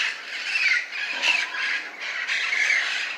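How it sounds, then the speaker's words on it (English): A tree full of wild parrots in Los Angeles squawks loudly and continuously, harsh overlapping calls rising and falling in several bursts, with no talk. "Like 200 parrots in this tree right here."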